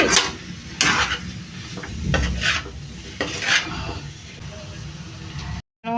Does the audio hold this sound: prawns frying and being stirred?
yes